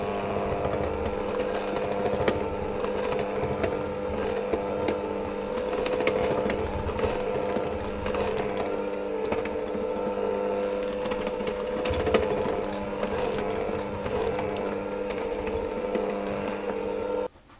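An electric mixer runs steadily on low speed through butter cookie dough, a continuous close motor whir with a slight rhythmic churn that holds level throughout before cutting off at the end.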